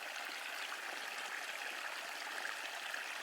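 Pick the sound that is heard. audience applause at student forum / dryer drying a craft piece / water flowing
water flowing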